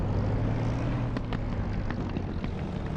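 A Spitfire's engine drones low and continuous before takeoff in the DCS flight simulator, a dense steady rumble with faint clicks and rattles rising above it now and then.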